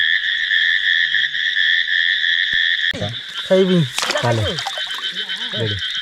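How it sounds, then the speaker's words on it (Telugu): A frog croaks at night on a riverside crab hunt, amid a loud, constant insect-like trill, with a voice speaking over the second half. "ఇదండి కప్ప"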